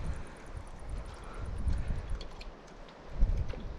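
Wind gusting through a forest at a fishing spot in late September, a steady low rumble of buffeting air that swells and eases, with a stronger gust near the end.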